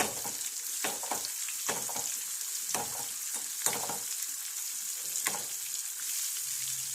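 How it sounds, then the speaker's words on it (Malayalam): Chilies frying in a pan, a continuous hiss of sizzling oil with repeated scraping stir strokes breaking through at irregular intervals, close and fairly quiet. "അന്നേരെ മുകളും വേഗം തന്നെ അങ്ങ് ഫ്രൈ ആയിക്കോളും മുളകൊക്കെ നല്ല പോലെ അങ്ങ് മൂത്തോളും"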